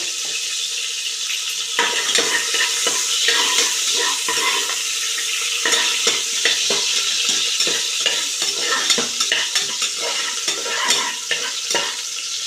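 Half an onion sautés in about three tablespoons of oil in a pressure cooker for a spinach chicken dish, giving a bright, continuous sizzle broken by frequent scraping stirs, close and steady with no talking.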